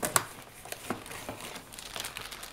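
Paper packing material crinkles and rustles close by while an ASUS N61 laptop box is unpacked, with a sharp crackle at the start followed by softer irregular handling rustles.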